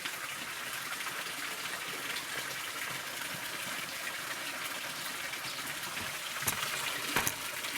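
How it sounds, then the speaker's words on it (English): Steady broadband watery bubbling from a fish tank aerator, a continuous gushing wash with a couple of brief louder splashes near the end, close and alone. "So you can see it's aerating the water as well."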